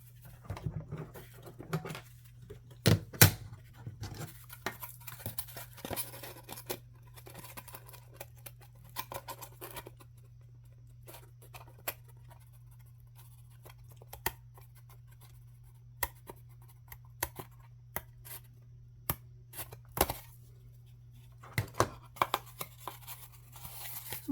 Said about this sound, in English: Oh, I still have a little bit right here I'm going to cut off.